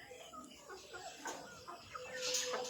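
Several chickens cluck softly and continuously at a distance, with scattered higher squawks over a low background murmur.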